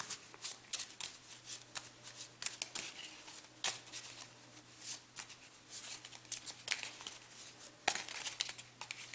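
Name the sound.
shuffling playing cards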